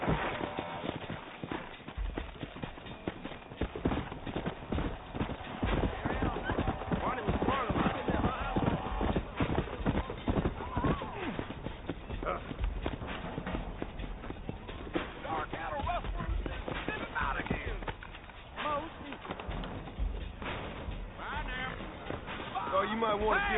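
Horse hooves clip-clop steadily at a trotting pace in the Red Dead Redemption video game, a continuous rhythmic beat with people talking over it.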